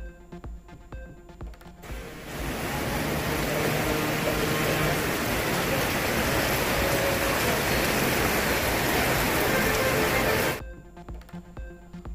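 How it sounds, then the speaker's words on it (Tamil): Heavy overnight rain pours down in Salem, Tamil Nadu, a dense, loud, steady hiss that swells in, holds for about eight seconds and then cuts off abruptly. "சேலத்தில் நேற்றிரவு கொட்டி தீர்த்த கனமழை."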